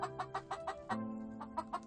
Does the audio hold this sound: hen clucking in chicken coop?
yes